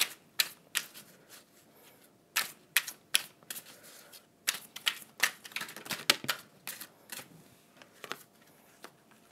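Tarot cards are shuffled and drawn by hand during a reading, giving a quick run of crisp flicks and snaps in irregular bursts with short pauses, close and fairly quiet, with no voices.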